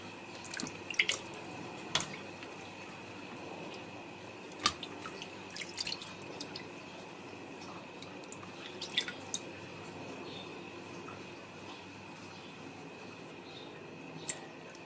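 Aloe vera leaves soaking and being rinsed in a basin of water, faint drips and soft splashes scattered over a quiet room background.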